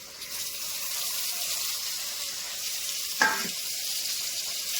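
Onions and tomato pieces fry in a pan with a steady, close broadband sizzle throughout, broken near the end by one brief clatter as the pieces are added.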